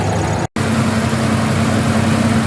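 A Toyota Troopy engine idles steadily with a low, even hum and a faint whine, close and continuous, broken only by a brief dropout near the start.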